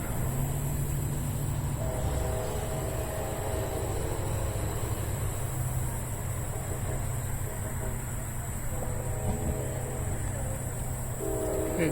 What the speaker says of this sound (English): and pardon the train in the background.